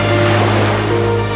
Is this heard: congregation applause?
no